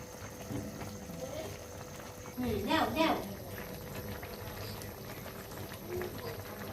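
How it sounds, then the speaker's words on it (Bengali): A pot of curry bubbles and boils at low volume, with a short louder burst of gurgling in the middle. "বলক চলে আসছে এখন মাছগুলো দিয়ে দিব"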